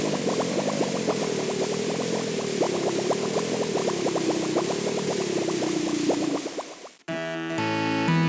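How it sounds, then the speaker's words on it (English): Thick, gurgling bubbling of green slime dissolving flesh in the Space Quest IV adventure game, a continuous wobbling boil for about seven seconds, then cutting abruptly to a musical sting. "As the green slime dissolves the flesh from your bones"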